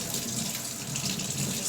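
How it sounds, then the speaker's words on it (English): A kitchen tap runs steadily into a bowl, a continuous splashing stream of water filling it without a break and with no talk over it. "So I got a bowl of water."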